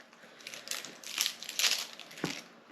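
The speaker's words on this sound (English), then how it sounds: "So I'm just going to cut these shallots up." Shallots are cut with a knife on a board, giving several crisp, close crunching slices in uneven succession with quiet gaps between strokes.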